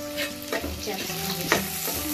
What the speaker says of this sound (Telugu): గార్లిక్ చేసుకొని 1 నిమిషం ఫ్రై చేయండి